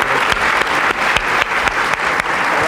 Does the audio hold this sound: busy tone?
no